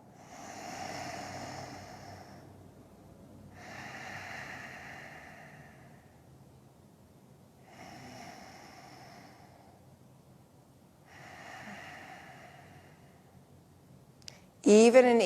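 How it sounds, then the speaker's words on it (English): Slow, even nasal breathing during a yoga flow: four soft, evenly spaced breath sounds, close and quiet, ending in a brief louder noise. "Even and equal breathing."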